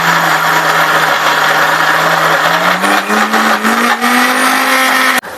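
A mixer grinder grinds soaked chana dal, whining loudly and continuously, its motor pitch climbing gradually before it cuts off abruptly near the end.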